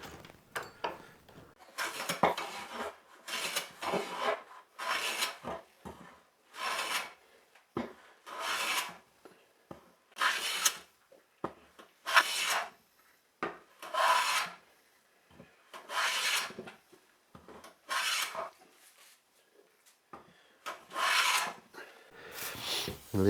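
Hand plane shaving wood for a Telecaster guitar build, a repeated series of rasping strokes, each about a second long, close and clear with short pauses between, no talk.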